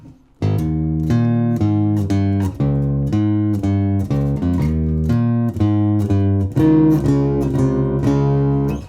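A bass guitar plays a riff with all four parts joined, as a loud, close run of punchy repeated low notes in a bouncing rhythm that keeps going without talk.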